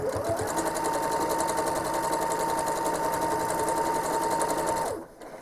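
A home sewing machine stitches steadily while machine quilting, its fast even whirring and tapping running close and uninterrupted for about five seconds before stopping.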